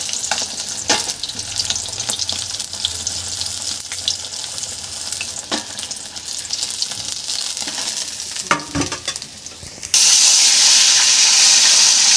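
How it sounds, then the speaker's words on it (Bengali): Pieces of rui fish frying in hot oil, a steady close sizzle with scattered pops and scrapes, ending in a louder, brighter burst of sizzling; no talking. "এই 4 পিস মাছ, ওগুলো ভেজে রেখে দিচ্ছি"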